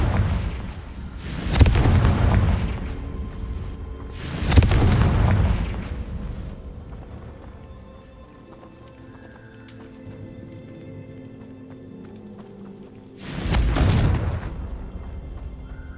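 Confringo fire-spell explosions in the game Hogwarts Legacy, three loud booming blasts with rumbling tails, two close together early and one after a long quieter stretch of ambient game sound.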